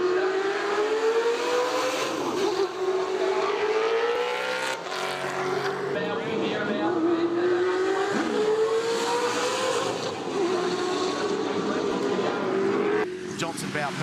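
Ford Falcon muscle cars racing at Mount Panorama, Bathurst, engines howling and rising through the gears as cars pass close by, with a race commentator talking over the roar throughout.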